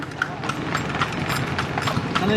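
Horse hooves clip-clopping as it pulls a kalesa carriage through Vigan streets, a steady rhythm of close hoof strikes under background chatter and street noise.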